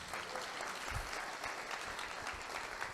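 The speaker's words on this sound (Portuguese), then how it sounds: "Aplauda o Senhor, queridos." A church congregation claps together in steady, continuous applause that fills the room evenly from start to finish, with no voices standing out above it.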